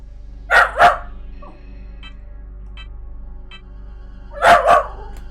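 A dog in the PS1 game Dino Crisis barks twice in quick succession, then after a quiet gap barks twice more, sharp and clear over a steady low game hum.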